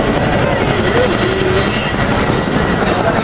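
RAF Chinook helicopter in an air show display, a loud continuous rotor and engine roar pirouetting overhead, with a public-address voice faintly audible beneath.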